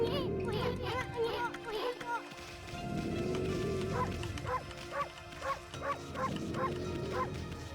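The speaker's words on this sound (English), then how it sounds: "A little bit of a bark here and there doesn't hurt." Wolf barking in the Okami video game, a series of short yappy barks in quick clusters over a busy game soundtrack, moderately loud.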